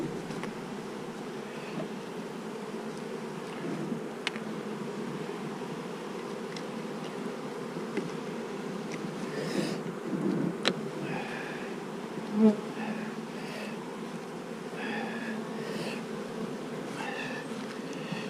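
Honey bees buzz continuously around an open, productive hive colony during a swarm cell check. The hum is steady and dense, and individual bees rise and pass closer at times.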